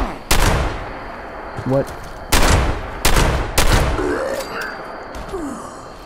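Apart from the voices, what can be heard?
gunfire in the video game Fallout 76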